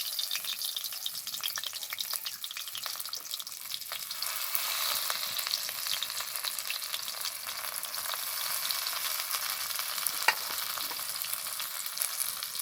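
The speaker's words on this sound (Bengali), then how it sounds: "এবার একে একে পাতুরিগুলো এর মধ্যে দিয়ে দেবো, হালকা আছে পাতুরিগুলো ভেজে নেব।" Wrapped fish paturi parcels fry in a pan of hot oil, a steady, dense sizzle running throughout with a faint scrape or tap near the end, no voices.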